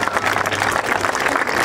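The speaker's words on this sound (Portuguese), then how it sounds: "uma salva de palmas para ela." An audience applauds a student at a school's formal opening ceremony for the academic year in Mangualde, steady dense clapping filling the hall for a short burst.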